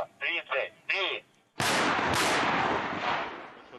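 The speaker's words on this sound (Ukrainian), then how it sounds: "Артилеристи відпрацьовують ураження позицій супротивника. Один розрахунок стріляє по цілі" Artillery firing at a training range in the OOS zone: after a few seconds of someone speaking, two loud booming shots land close together, their roar trailing off slowly.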